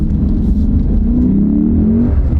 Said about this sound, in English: And we'll give it some gas.